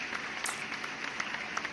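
An applause sound effect: dense, continuous clapping from a crowd holds at a steady level from start to finish, with sharper individual claps popping out now and then.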